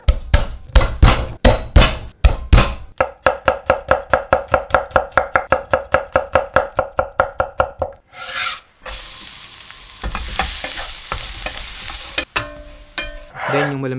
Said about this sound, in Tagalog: So, maghihiwa lang tayo ng bawang.